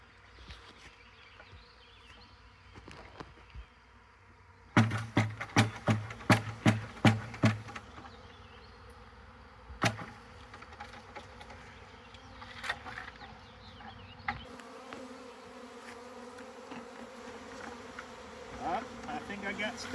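A bee swarm clinging to a branch is shaken, setting off a burst of sharp thumps and then a rising, dense buzzing of many bees that carries on close by, with occasional voices.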